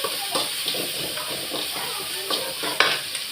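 Onions and curry leaves sauté in a pan with salt, giving a steady frying sizzle broken by a few soft stirring scrapes, close and moderately quiet, with no one talking.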